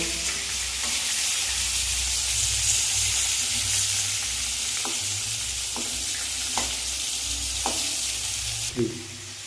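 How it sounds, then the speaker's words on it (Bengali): Steady oily sizzling of sliced pointed gourd with turmeric frying in a pan, with a few soft clicks of a spatula stirring now and then, close and continuous. "পটলটা এখন ভেজে নেব।"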